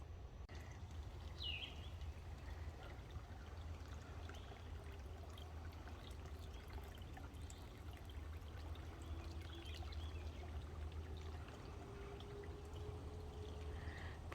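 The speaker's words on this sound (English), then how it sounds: "Pretty little creek." A small forest creek trickles and burbles steadily and quietly, with faint birdsong here and there in the background.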